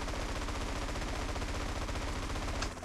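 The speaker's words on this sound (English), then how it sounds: "Bang, bang, bang. That's the sound of the gunfight." A sustained firefight in GTA San Andreas, with fast overlapping machine-gun bursts and gunshots loud and near, the shooting cutting off abruptly right at the end.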